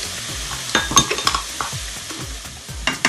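Bacon sizzles in a pan for a creamy carbonara while a utensil scrapes and stirs it, a steady crackle broken by a series of sharp, close clicks and scrapes against the pan, with no speech.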